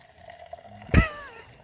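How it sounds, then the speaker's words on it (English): Red wine runs from the push-button tap of a boxed goon bag of Pinot, a single short gurgling gush that starts abruptly, tails off over about half a second, and sits over quiet background room noise. "What, when you just pull the button up and wine comes out?"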